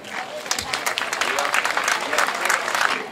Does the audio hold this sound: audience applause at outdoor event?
yes